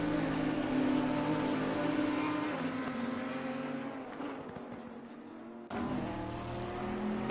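A Bentley race car in the P1 class roars past at Laguna Seca, loud sustained engine note that shifts and fades, then surges again with another car closing in, no voices over it.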